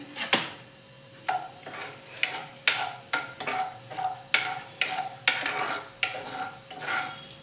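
Crushed cashews fry in a little hot oil for veg fried rice, with a sizzling hiss broken by regular scraping strokes of a spoon stirring in the pan, close and without talk.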